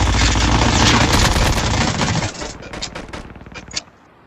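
Loud bursts of rapid automatic gunfire, dense at first and then thinning into scattered individual shots before cutting off.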